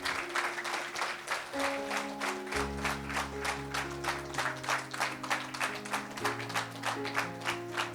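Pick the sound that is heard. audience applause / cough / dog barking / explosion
audience applause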